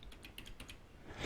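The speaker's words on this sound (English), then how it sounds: "Now I'm going to hit escape on the keyboard" Keys on a computer keyboard, including the escape key, give a quick run of light, close plastic taps in an irregular rhythm over faint room noise.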